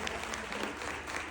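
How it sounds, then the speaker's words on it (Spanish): Audience applause at an inclusive-education talk in a school setting, a dense, steady burst of clapping from many hands, close and even throughout with no voices over it. "fuerte el aplauso"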